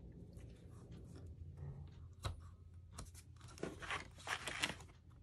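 Scissors cutting strips of paper for pretzel treat wrappers, heard as faint, crisp snipping and crunching bursts that grow busier toward the end, close but quiet, with no talking.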